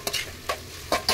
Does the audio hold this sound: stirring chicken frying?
yes